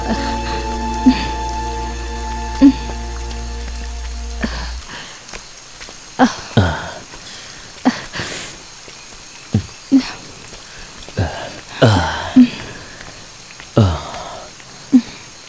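Steady rain falls outdoors as a soft, even patter, with dull thuds recurring every second or two; a brief musical tone is heard at the start.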